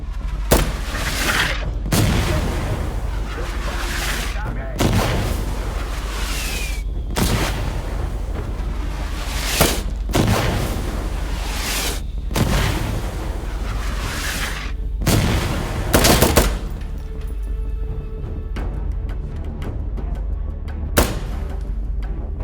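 Gunfire and explosions in Insurgency: Sandstorm, an MK18 CQBR among the weapons, with repeated heavy booming blasts and bursts at irregular intervals, loud and close, in a dense firefight.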